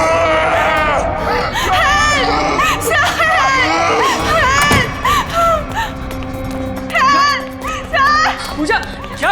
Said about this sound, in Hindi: चीख क्यों रही हो?